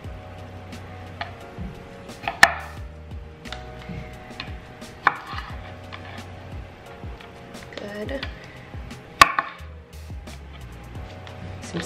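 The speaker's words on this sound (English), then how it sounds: "I'm gonna cut up some lemon. I'm gonna cut up some grape tomatoes." A knife chopping lemon and grape tomatoes on a cutting board gives sharp, irregular taps and knocks, close and clear, with a few louder strikes among softer cuts and a voice talking at times.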